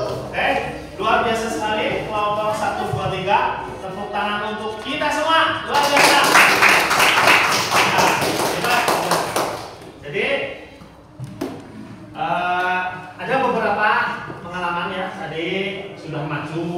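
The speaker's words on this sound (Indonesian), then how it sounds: "Tepuk tangan untuk kita semua." Classroom applause for student groups, a few seconds of loud, dense clapping from many hands that rises and fades, with a teacher speaking before and after.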